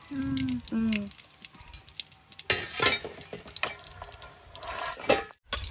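Over a kilo of ivy gourd (dondakaya) frying in a pan, with a brief voice at the start, then close stirring clatter and bursts of sizzling.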